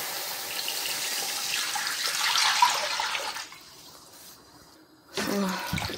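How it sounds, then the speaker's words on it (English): Water pours into a cooking pot for jollof rice with onions and salt, a steady splashing rush for about four seconds that fades to quiet, then a short louder burst of pouring near the end. "Then you pour your water inside."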